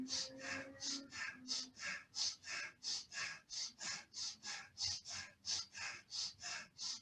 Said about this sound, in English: try and make it a little bit faster on the inhale and exhale